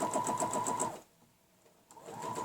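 A sewing machine stitching curves on a quilt, its needle running in a fast steady rhythmic chatter, pausing for about a second, then starting up again, close and clear.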